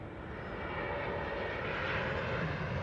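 Airliner on approach to a runway at Amsterdam Schiphol Airport, a broad steady engine roar that swells slightly louder as the plane nears, heard alone without talk.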